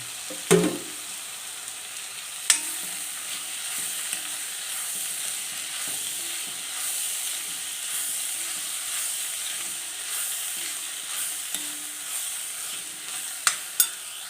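Small chopped tomatoes and a piece of carrot sauté in a pan on medium flame for an egg curry, with a steady soft sizzle broken by a few stirring clatters, near and alone.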